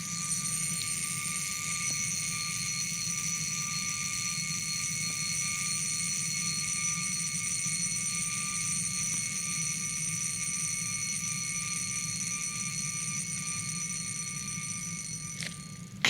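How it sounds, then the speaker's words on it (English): Mechanical alarm of a Jaeger-LeCoultre Polaris Memovox watch, a continuous high metallic buzzing ring held steadily throughout, close and clear with no talking. "the arrow will give you the exact indication when the alarm will sound off"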